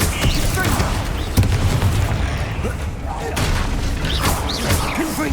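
Confringo blasting spell explosions in Hogwarts Legacy, a dense rumbling wash of booms and impacts with scattered sharp cracks, loud and continuous with layered battle noise.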